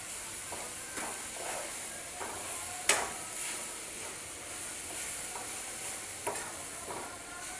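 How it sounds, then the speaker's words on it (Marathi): Jaggery is stirred in a pan until melted for modak, a quiet, steady sizzle and hiss broken by periodic scraping strokes of a spoon and one sharper clink near the middle. "गुळ मेल्ट होईपर्यंत चांगलं ह्याला आपण परतून घ्यायचं आहे"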